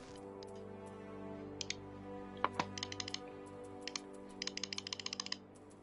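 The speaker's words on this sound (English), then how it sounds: "That's a lot of clicking." Rapid clicking of a computer keyboard and mouse while playing Final Fantasy XIV, sharp close taps in bursts that grow into a fast run of clicks over a steady game hum.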